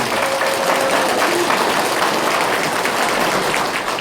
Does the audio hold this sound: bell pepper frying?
no